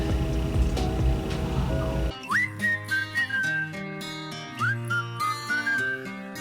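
After a noisy start, a voice imitates a whistle with a few sliding, piercing tones, repeated in short bursts, loud and close.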